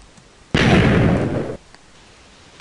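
A Minecraft TNT block set off by a pressure plate explodes in a video game, one loud, close, broadband blast lasting about a second before cutting back to quiet.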